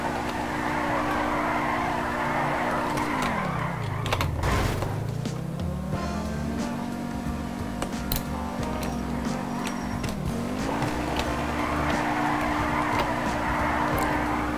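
An Osiris supercar drifting in GTA 5, with a steady engine drone that swoops down and back up through gear and throttle changes while tires squeal and scrape in long continuous skids.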